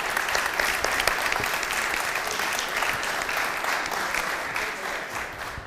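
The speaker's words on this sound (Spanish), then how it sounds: "También pido un fuerte aplauso para el camarada aquí presente." An audience applauds a veteran comrade at a commemorative gathering, many hands clapping in a sustained, crackling patter with occasional sharper claps, steady and moderately loud throughout.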